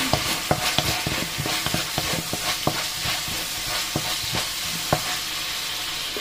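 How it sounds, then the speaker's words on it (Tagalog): Garlic sautés in leftover frying oil for mechado with a steady, moderately loud sizzle, punctuated throughout by repeated sharp scrapes and taps of a utensil stirring the pan. "Yung pinagprituhan, dyan na rin tayo magigisa. Ayan. Bawang."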